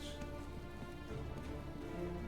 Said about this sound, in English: I hope you like the rain, 47.